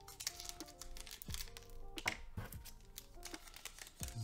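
Scissors snipping open a Dragon Ball card game booster pack from a Realm of the Gods premium box, giving a series of crisp cuts and crinkling foil wrapper sounds, close and fairly quiet with no talking.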